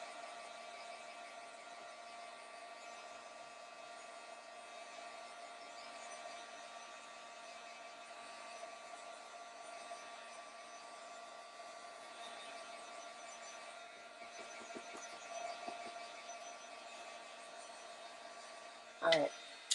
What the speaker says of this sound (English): I'm going to give it a quick heat set to dry it all up.